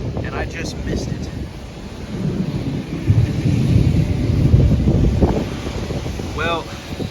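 Thunder rolls through a storm during a late-November chase in Dixie Alley, a low, sustained rumble swelling midway and buried under heavy wind buffeting the microphone, with voices nearby.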